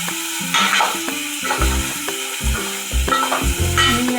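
Eggplant, tomato and potato frying in oil in a pot, a close, loud sizzle broken by repeated clanking stirs of a spoon against the metal pot.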